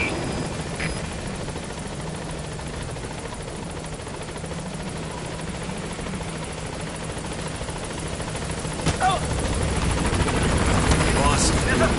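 The Pequod helicopter from the video game Metal Gear Solid 5 arriving at a landing zone, its steady rotor drone filling the background and swelling louder near the end, with a radio voice speaking over it.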